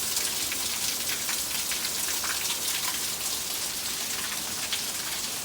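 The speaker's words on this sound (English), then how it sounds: "Can you hear that rain?" Rain runs off a rooftop in a hard San Diego storm, producing a constant, loud wash of spattering drops that stays uniform throughout with nobody talking.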